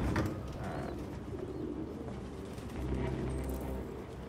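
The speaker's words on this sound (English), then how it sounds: "he got a bunch of birds in here" Pigeons coo softly in a suspect's room in the Detroit: Become Human video game, low repeated coos over a quiet ambient background.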